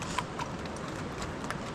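Horses walk a trekking trail on the Salkantay route in Peru, their hooves clip-clopping in a faint, irregular rhythm over a steady outdoor hiss.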